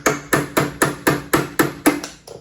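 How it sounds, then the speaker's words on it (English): A hammer strikes a hex wrench seated in the back of an exercise bike's pedal socket, driving the pedal off: nine sharp, evenly spaced metallic blows, close and loud, with no talking. "hammer from the other side"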